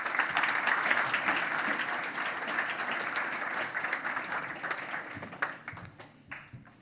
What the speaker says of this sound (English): ladies and gentlemen, a big round of applause for Yasmin and Pauline.